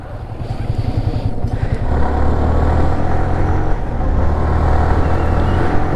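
A motorcycle rides steadily after a chain adjustment, its engine drone loud and close with a rise in pitch partway through, accompanied by a continuous wind-and-road rush and no talking.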